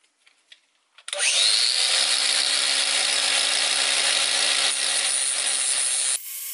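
Power sander grinding sharp edges off nickel tabs on a battery connector during a block battery build, a loud steady abrasive whine starting abruptly after a second and running continuously for about five seconds before cutting off.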